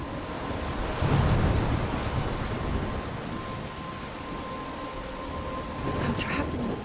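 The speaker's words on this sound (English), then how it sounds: "I'm trapped in a storm?" Stormy weather in the game Life is Strange, with a steady wash of rain and wind throughout and a heavier rumbling surge near the start, like distant thunder, continuous and fairly loud.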